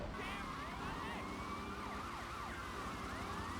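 A police car siren wails in a video game, its rising and falling tones looping continuously over a steady low engine and road rumble, loud and close with no talk.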